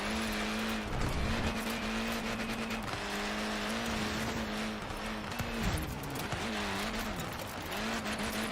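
A car drifts in Forza Horizon 4, its engine droning with wavering pitch as the revs rise and fall, and tires scrubbing through the slide, loud and continuous for over eight seconds without speech.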